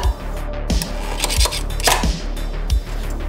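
A spatula scraping and prying a freshly finished 3D print off a printer's build plate, several sharp clacks and scrapes in an uneven rhythm, close and fairly loud.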